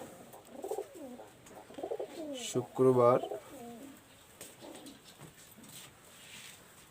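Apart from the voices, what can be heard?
pigeons cooing in a loft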